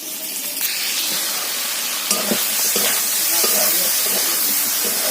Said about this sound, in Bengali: ঢ্যাঁড়সগুলোকে আগে ভালোভাবে ভেজে নিই তারপরে তরকারির মধ্যে দেবো